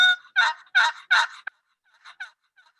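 A wooden turkey box call scraped to imitate a turkey, a series of four sharp raspy yelps followed by softer, quieter clucks, close and alone.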